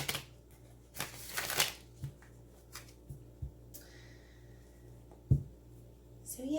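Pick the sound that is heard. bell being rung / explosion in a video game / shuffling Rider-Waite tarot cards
shuffling Rider-Waite tarot cards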